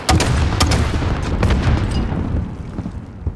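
Grenade launcher explosions in a video game: a dense run of loud, overlapping booms and sharp cracks with a heavy low rumble, easing off slightly toward the end.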